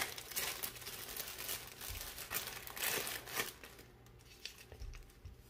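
A plastic Ziploc bag holding scope rings is opened up close, with bursts of sharp crinkling and rustling that come and go, then fade to quieter handling near the end.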